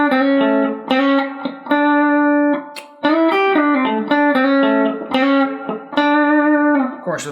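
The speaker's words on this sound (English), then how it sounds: "There's our double slide lick right there." An electric guitar plays a blues double slide lick, lightly overdriven, with repeated sliding double-stop phrases that ring out and restart in a steady rhythm, loud and close with no talk.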